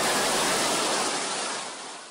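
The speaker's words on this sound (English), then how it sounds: "torrents of rain cascaded from the ceiling and down the escalators" Rainwater pours from a shopping mall ceiling and down escalators during a severe rainstorm, a loud, dense, continuous rushing hiss like a waterfall, easing slightly toward the end.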